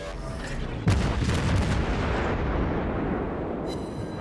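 Naval gunfire in the game World of Warships, an Omaha-class cruiser's guns firing in a heavy booming salvo that rumbles on as a dense, loud roar throughout.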